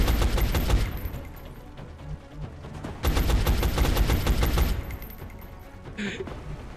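Enemy gunfire in XCOM: Enemy Unknown: two long stretches of rapid, rattling automatic shots, loud and close, with a short quieter gap between them and a brief beep near the end.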